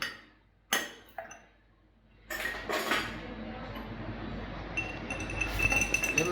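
A ball of ice drops into a cocktail glass with a sharp clink, followed by a couple of smaller clinks, then a louder clatter and rustle as the drink is handled.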